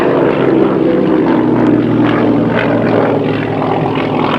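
A propeller aircraft flies past at the TVR air display at Donington Park, its loud droning engine buzz sustained throughout with slight pulsing modulation as it passes overhead.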